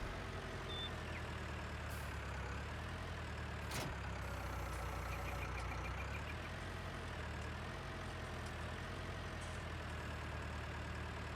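A tractor engine idles in the Farming Simulator 19 video game, giving a steady, low, moderately quiet hum that stays even, with a few faint clunks and no voices.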